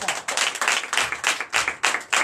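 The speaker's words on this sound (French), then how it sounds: "je vous demande d'applaudir très fort" A church congregation at a Sunday service in Bénin claps loudly in quick rhythmic bursts, the clapping rising and falling in short waves with a few voices faintly underneath.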